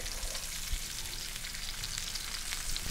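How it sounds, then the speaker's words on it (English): Ginger slices, garlic and other aromatics sizzle in hot oil in a pan, a dense, continuous crackling hiss at close range with small pops and no talking. "Once our pan here on the right is nice and hot, a little bit of oil, and then all our aromatics go in."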